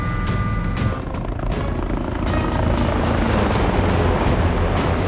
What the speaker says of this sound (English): Get the chopper.